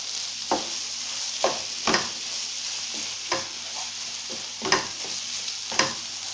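A utensil stirs a tuna and vegetable filling in a pan, giving a series of distinct scraping clinks at an uneven rhythm over a soft continuous sizzle, close and fairly quiet.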